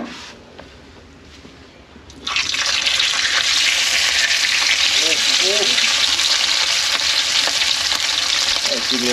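Melanur fish sizzle loudly in a black frying pan, a dense continuous crackle that starts abruptly after a quieter moment and stays close, with small pops and spits throughout.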